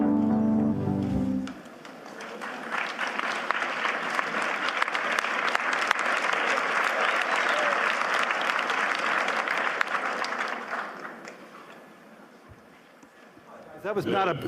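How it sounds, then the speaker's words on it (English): Audience applause at a Davos forum session, a steady broad clapping that swells after a brief voice at the start, holds for about eight seconds, then tapers off into quieter room noise. "That was not a large applause."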